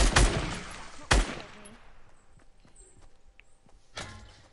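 Gunfire from being sniped in a PS4 shooter game, two sharp loud shots about a second apart at the start, followed by quieter game ambience and a softer impact near the end.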